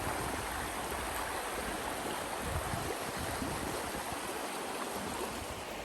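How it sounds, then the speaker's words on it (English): Water trickling steadily through a backyard creek, a continuous close wash of bubbling flow with no voices and no break. "enjoy the sound of the water trickling"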